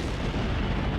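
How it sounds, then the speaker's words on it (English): Muffled explosions rumbling in the distance in the video game Code: Realize, a dense, low, continuous booming that fills the whole second without any voices. "Even this musing is disturbed by the sound of muffled explosions in the distance."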